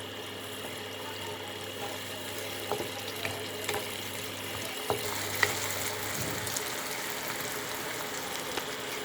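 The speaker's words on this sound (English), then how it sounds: "we are going to add the ginger garlic paste. And we'll fry it for a few seconds." Ginger garlic paste fries with onions in a pan as a steady, moderate sizzle. A few faint clinks and taps sound over it.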